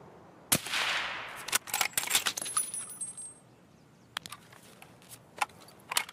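Gunfire in a first-person shooter video game: a sharp shot near the start, then a cluster of rapid cracking shots over a couple of seconds, followed by scattered single reports, fairly quiet overall.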